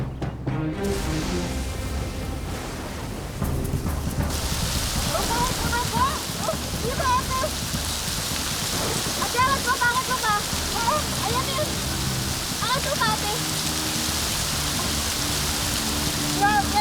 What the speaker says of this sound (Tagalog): Mukhang babagsak na yung ulan.